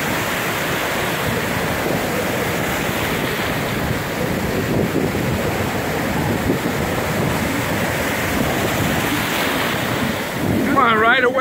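Ocean waves rolling onto the beach at Long Beach, a steady, loud rush of surf mixed with heavy wind buffeting the microphone, building slightly toward the end.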